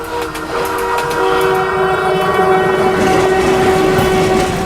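Train passing on rails, a steady loud rumble of wheels with a sustained horn tone running through most of the stretch, near and continuous without speech.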